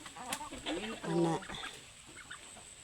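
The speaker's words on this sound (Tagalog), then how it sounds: "So ang mga manok ko." Backyard chickens cluck and peck at the ground near a dug plot, soft calls coming in short bursts while a person speaks briefly.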